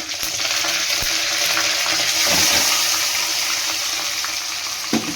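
Steady sizzle and crackle of mustard seeds popping in hot oil, a dense continuous hiss with occasional louder spits, close up and without voices.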